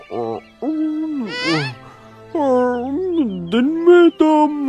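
A voice imitates an owl, giving a series of loud, close, wavering hoots separated by short pauses.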